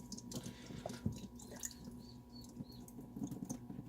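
Water rinses through a blown emu egg and drips out in quiet, irregular drops and small splashes, with a faint steady background.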